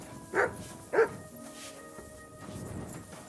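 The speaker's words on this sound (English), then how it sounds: "You silly doggy." A dog in the video game Kingdom Come Deliverance 2 gives two short barks about half a second apart, moderately close, followed by quiet background ambience.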